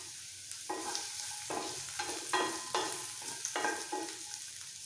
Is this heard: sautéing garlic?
yes